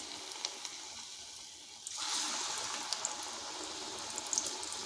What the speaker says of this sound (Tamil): இப்போது இந்த பஜ்ஜி மாவில் முற்றி பஜ்ஜி பொரிச்சு எடுத்துடலாம்